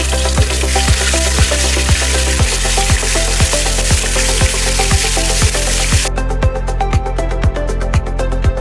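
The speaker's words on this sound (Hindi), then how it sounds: "एक टेबलस्पून जिंजर गार्लिक पेस्ट और इसे अच्छी तरह भून लें।" Ginger garlic paste sautéing in a pan for a bhindi masala, a steady loud sizzle and frying crackle running throughout alone, with faint rhythmic background music.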